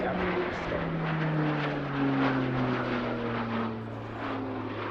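A Slovenian Pilatus PC-9M Hudournik propeller trainer flies aerobatic loops and rolls at an airshow, its engine drone steady and fairly loud with a slowly shifting pitch, briefly swelling then easing off.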